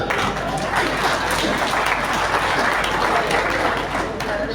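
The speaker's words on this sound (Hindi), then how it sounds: "पीछे वालों तालियां नहीं बजाओगे क्या?" Audience applause at a Hindi kavi sammelan poetry gathering, loud dense clapping filling the whole stretch with crowd murmur mixed in, close and continuous.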